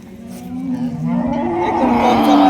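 Dairy cows at a cattle market moo loudly and close by, one long drawn-out low call that rises and swells across the whole stretch.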